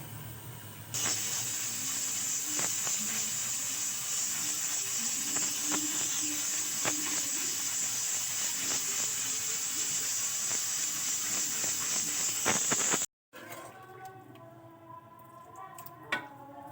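A pressure cooker's weight hisses out a steady, loud jet of steam for about twelve seconds while pasanday (meat slices) cook, then the sound cuts off abruptly and faint kitchen noises follow.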